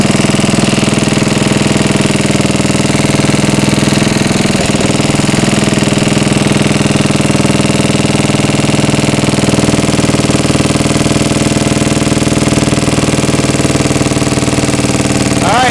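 A 74-year-old Briggs and Stratton engine runs on a dyno at wide open throttle. It drones loud and steady with a rapid mechanical clatter, close and continuous for the whole stretch.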